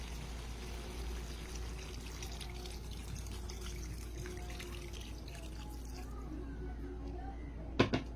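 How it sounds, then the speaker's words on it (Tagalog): Thin second-press coconut milk poured into a cooking pot of meat, a soft steady pour and trickle at low level over a constant low hum, ending with a couple of brief clatters. "Pagkahalo, maglalagay tayo ng ikalawang gata. O ito yung labnaw."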